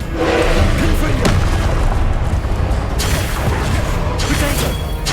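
Confringo fire spell blasts in Hogwarts Legacy during a boss fight, a series of loud booming explosions with crackling debris, several sharp impacts spread across a continuous roar of combat.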